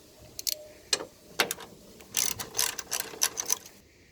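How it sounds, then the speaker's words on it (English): A ratchet with a 10mm socket clicks in short bursts while removing the headlight bolts on a 2007–2013 GMC Sierra, close, crisp rapid pawl clicks separated by brief pauses. "take your 10mm socket and you're going to remove this 1 bolt, this 2 bolt, this 3 bolt,"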